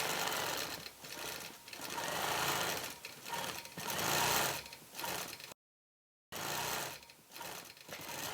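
A quilting machine stitches a quilt in fast rhythmic bursts, a loud dense buzzing that swells and eases with each pass, with one brief full silence partway through.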